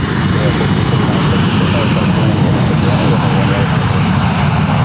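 An airliner takes off from runway 1 left at San Francisco International Airport, its engines a loud, dense, unbroken roar holding steady throughout.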